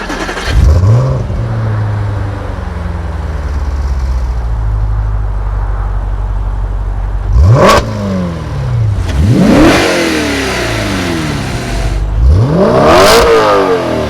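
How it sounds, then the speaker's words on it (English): An Audi car engine revs hard several times, each burst climbing sharply and then falling back, with a steady loud engine drone between the revs and no talking. "the best part is the engine in this car"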